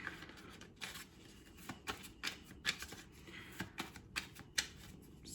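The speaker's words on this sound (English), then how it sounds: "let's go ahead and start shuffling" Tarot cards being shuffled in quick riffling bursts, a series of crisp papery flutters with short pauses between them, close up and fairly quiet.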